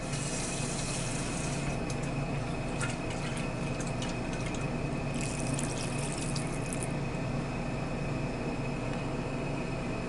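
Water runs steadily from a tap into a pan of potatoes being prepared for au gratin, a continuous close splashing rush that lasts throughout without talk.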